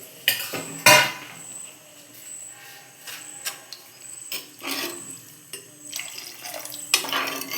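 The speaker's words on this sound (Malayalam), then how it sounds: "ആവശ്യമായിട്ടുള്ള വെള്ളം ചേർക്കുക എന്നിട്ട് നമുക്ക് തിളപ്പിക്കാം" Water is poured into a pot of ground curry paste for a choora (tuna) fish curry. Sharp metallic clinks and clanks of the pot and utensils sound up close, with quieter splashing and handling noises between them.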